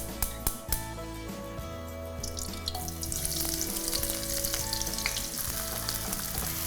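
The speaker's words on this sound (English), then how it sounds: "I'm going to fry the onions for a few minutes until they start to take on a golden color" Onions fry in oil heated on high for chicken jalfrezi, a steady, close sizzle that grows denser and louder after a few sharp clanks at the start, with no talking.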